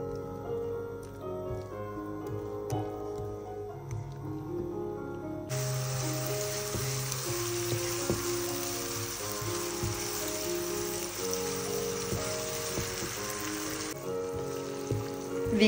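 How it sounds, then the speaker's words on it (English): Onions drop into hot oil in a pan for potato börek and set off a loud, steady sizzling hiss that runs for several seconds before easing, with gentle music playing underneath. "And we are adding the onions."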